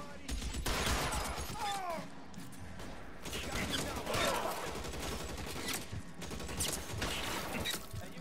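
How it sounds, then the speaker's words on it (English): Gunfire in the L.A. Noire police video game, repeated shots and bursts cracking across a continuous mix of game noise, with voices talking over much of it. "somebody's shooting me pretty good"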